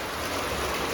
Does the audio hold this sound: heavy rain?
yes